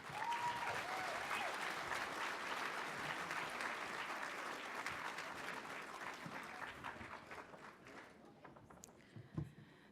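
Sustained applause from a banquet audience welcoming a keynote speaker to the stage, dense and even at first, then thinning and fading away toward the end.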